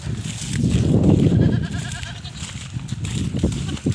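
A goat bleats a few times at close range, with a wavering, nasal cry over low rustling and shuffling noise.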